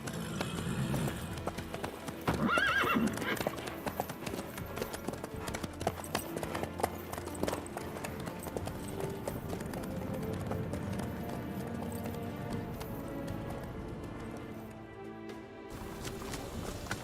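Hooves of a horse ridden through The Witcher 3: Wild Hunt on PC clip-clop in a steady, fast rhythm, fairly loud and continuous, mixed with game ambience.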